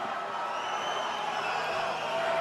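A large rally crowd in a convention center keeps up a steady, dense roar of cheering and shouting, sustained and fairly loud throughout with no single voice standing out.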